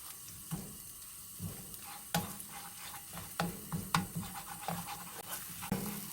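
Garlic and seasonings stir-frying in a pan, a quiet sizzle broken by repeated soft scrapes and taps of a spatula, close and fairly faint.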